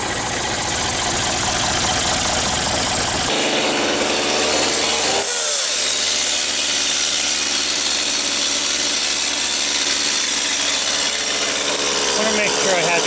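Sawmill cutting a maple log, a loud continuous machine drone with sawing and rubbing wood noise that shifts in tone partway through and keeps running steadily to the end.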